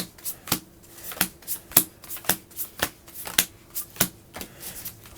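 Slippery waterproof plastic cards for the Heroes of Barcadia board game being handled and shuffled, a rapid run of sharp, close snapping flicks in an irregular rhythm, no talk.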